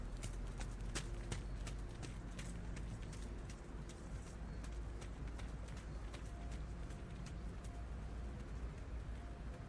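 Horse trotting in a dressage arena during a junior eventing championship test, hooves clip-clopping in a steady two-beat rhythm over a constant low rumble of outdoor ambience, moderately close with no voices.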